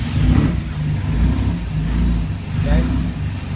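A Triumph TR3A engine starts and revs up close, its mid-pitched rumble rising and falling in a couple of surges with a voice talking over it.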